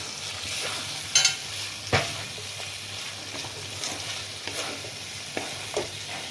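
Pointed gourd frying with garam masala in a pan sizzles softly and close, broken by a few sharp stirring scrapes and knocks at irregular intervals.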